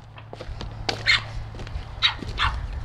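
A young puppy named Lotus on a North Texas homestead, giving short yips, barks and high whimpers in an uneven, close series over a low steady hum.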